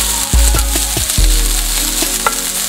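Vegetables sautéing in a pan over medium-high heat, a loud close sizzle with a few sharp knocks and scrapes of stirring, no voices.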